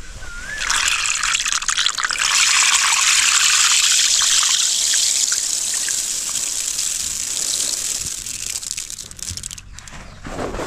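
Water runs steadily into a vessel to soak rice and toor dal for a shared kootanchoru meal, a continuous pouring gush that holds for about nine seconds before tapering off, close and fairly loud.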